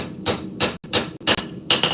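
Hand hammer striking steel at a forge, five loud ringing metallic blows at a steady working pace, close up and alone without any talking.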